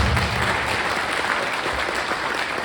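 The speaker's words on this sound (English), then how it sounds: "So give a hand for Erin Rogers, please." Audience applause for Erin Rogers, the substitute band director, at a high school band spring concert, a steady dense clapping from a crowd filling the hall throughout.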